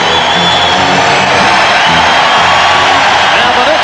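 An arena crowd roars through the last minute of a 1994 New York Knicks playoff game, a loud, unbroken wash of cheering and shouting with commentary mixed in.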